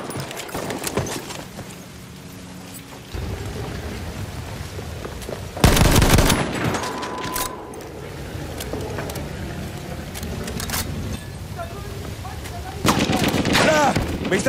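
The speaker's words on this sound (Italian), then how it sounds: "Mitragliatrice nemica!" Enemy machine gun fire in a first-person shooter, heard as sharp bursts of rapid gunfire, the loudest around the middle and near the end, amid ongoing battle noise and Italian game voice callouts.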